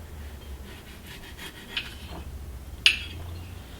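A knife slices through a strawberry on a cutting board, soft cutting and rubbing sounds followed by a sharp click of the blade meeting the board, close and quiet over low room noise.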